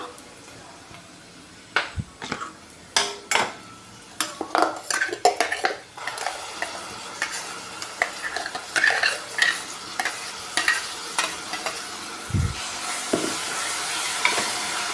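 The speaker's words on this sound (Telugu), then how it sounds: "ఇది బాగా వేగాలండి కొంతసేపు ఈ గ్రౌ గ్రేవీ అంతా కొంచెం వేగితే పచ్చి వాసన పోతుంది" Masala gravy for a drumstick curry is stirred in a pan, with repeated metal spoon clanks and scrapes against the pan over a continuous sizzle, busy early and steadier later, with a voice talking underneath.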